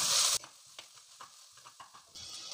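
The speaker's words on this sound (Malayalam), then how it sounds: "ഇതെല്ലാം നമുക്ക് വഴറ്റിയെടുക്കാം" Ginger, garlic, green chilli and curry leaves are sautéed in a pan. A burst of sizzle comes first, then quieter scraping stir strokes, and the frying noise swells again at the end. No one speaks.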